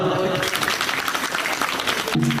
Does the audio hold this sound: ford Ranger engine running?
no